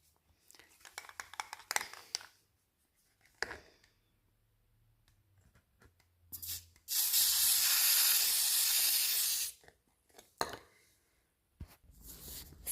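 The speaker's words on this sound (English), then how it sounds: "I spray painted all the baseboard tops" Spray paint hisses onto the tops of baseboards in a rental apartment in one steady burst lasting a couple of seconds, surrounded by scattered handling clatter and quiet movement.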